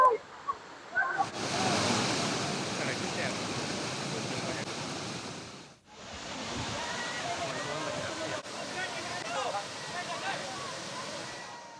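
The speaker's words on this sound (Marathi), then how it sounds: "उंचावरून खळाळत कोसळणारा पाण्याचा प्रवाह" Navadevi waterfall on the Arunavati river in the Satpuda hills roars in heavy monsoon rain, a dense, steady rush of falling water with a brief dip near the middle.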